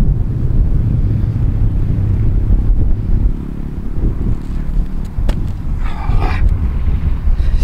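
Outdoors during broad-jump and vertical-jump attempts, strong wind buffets the microphone in a loud continuous low rumble, easing briefly around the middle before gusting again, with a few faint knocks near the end.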